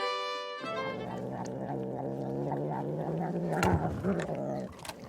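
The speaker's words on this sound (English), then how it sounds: "it's the sound of a purring cat" A cat purrs steadily and close up for several seconds, a low rhythmic rumble with a few louder breaths and a brief stir near the end, following a short held tone at the start.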